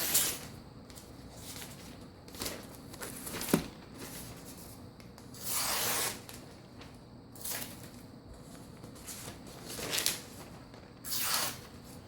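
Steel knife blade stroked across a wet sharpening stone, giving a series of separate rasping swipes at irregular intervals, with several longer, louder strokes standing out over a quiet background.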